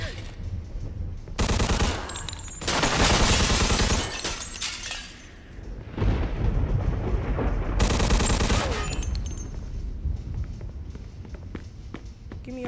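Gunfire in the Mafia 2 video game: loud bursts of rapid automatic fire in several volleys with short lulls between them, mixed with game action and footsteps.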